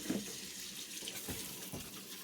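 Tap water runs into a sink to rinse red potatoes, a continuous soft splashing stream that stays steady and fairly quiet throughout.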